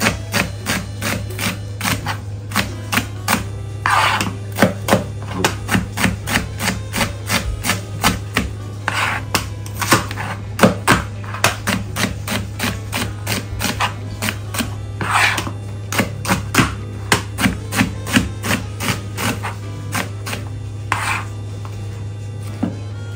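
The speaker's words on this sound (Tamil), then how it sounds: "இப்போ என்னன்னா மூன்று ஓனியனையும் கட் பண்ணி அதுக்குள்ள போடணும்." Onions are chopped with a knife on a board for a Sri Lankan eggplant milk curry, with rapid, crisp, evenly spaced strikes that continue for a long stretch. A steady low hum sits underneath, and no one speaks.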